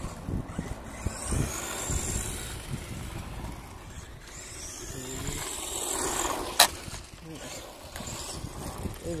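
A Subotech BG1518 Tornado RC truck drives quickly with a buzzing electric motor whine that rises and falls as it speeds around, with a sharp knock near the end and people talking over it.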